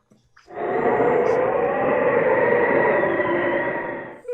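Train sound effect in a radio play: a loud, steady rumble of a moving train builds quickly and holds for several seconds, dense and continuous, with a faint voice briefly at the start and end.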